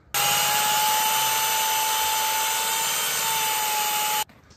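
A hand or power auger drills a hole through lake ice for a winter sauna plunge, a steady loud grinding whir running for about four seconds before stopping abruptly.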